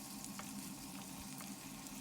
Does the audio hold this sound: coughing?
no